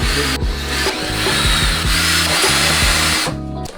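A power drill whirring loudly and close, revving in repeated bursts with short pauses between, grinding through material.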